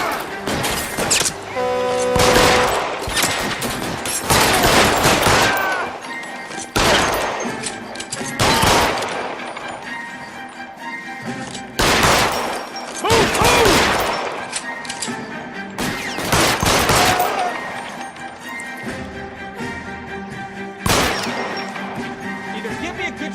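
Rapid gunfire bursts in LA Noire as shots are aimed at a fleeing car's tires. The volleys are loud and close, repeated every few seconds with crashes and impacts between them, over a continuous engine and driving rumble.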